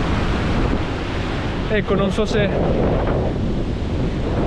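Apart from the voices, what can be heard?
strong sea waves and wind on the coast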